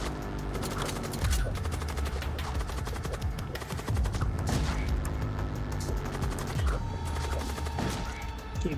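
Weapons fire in the video game Void War: dense, continuous volleys of gunshots and rapid automatic bursts with booming impacts, loud and sustained throughout, no talking.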